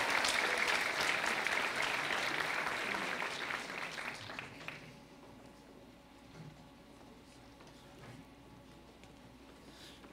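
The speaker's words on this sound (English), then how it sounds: "Give all these students another big round of applause." Students at a high school senior awards ceremony get a round of applause from the audience, full and lively for about four seconds before thinning out and dying away to a quiet room with a few stray claps.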